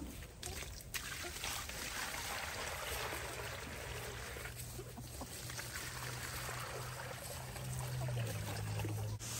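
Fresh water trickles and pours steadily for backyard chickens, a continuous close splashing flow running throughout alongside a low background rumble.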